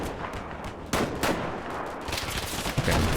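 Bursts of gunfire in Combat Mission Black Sea crack out in irregular volleys, loud sharp shots overlapping into a sustained firefight.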